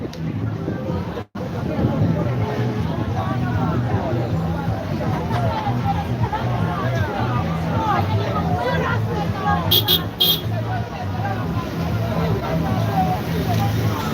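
A dense crowd murmurs continuously at a PNP political conference in Jamaica, with overlapping voices forming a loud, steady babble throughout.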